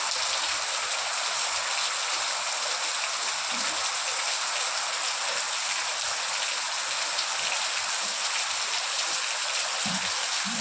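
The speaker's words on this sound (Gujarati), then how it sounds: "એમાંથી વરસાદ ચાલુ થઈ ગયો" Steady rain pouring down on a home in a monsoon shower, a constant close, full hiss of drops hitting surfaces with a few faint knocks, continuing evenly with no voices.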